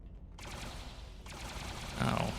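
Gunfire in Star Trek Online aimed at a closed door: a dense, steady volley of shots that runs through the whole moment, growing slightly louder toward the end, with faint voice-like sound mixed in.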